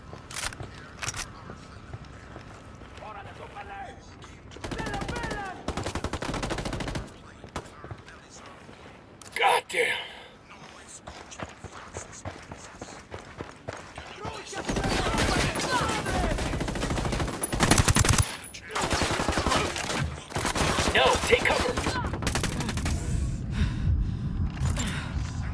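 Gunfire in Ghost Recon Wildlands, with bursts of rapid automatic shots and scattered single cracks across a tense battle, loud and close, some stretches quieter between volleys, with occasional voices amid the shooting.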